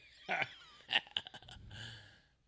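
An Alexa smart speaker plays a fart sound effect: a few quick, faint bursts, then a longer, low, drawn-out rasp at the end.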